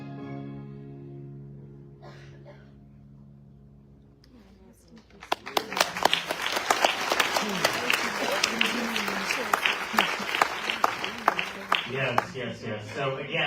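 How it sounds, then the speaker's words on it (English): Crowd applause at an outdoor civil rights protest event in Palm Springs, California, starting after about five seconds of speech and continuing as sustained dense clapping with a few cheers through the end. "So again, an applause one more time for the work of John Lewis."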